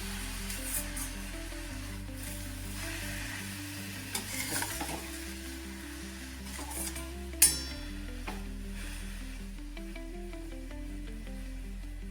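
Carrot halwa being stirred in a pan over a low flame, with a steady soft sizzle and repeated scraping strokes of the spoon running continuously, plus one brief clink, and no talking.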